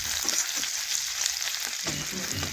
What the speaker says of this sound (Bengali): একটু ভেজে নিচ্ছি তেলের সাথে